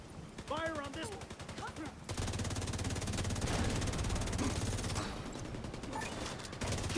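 Sustained automatic gunfire in a video game, a dense continuous rattle of shots that swells after a brief opening with a voice over it, then holds steady and loud.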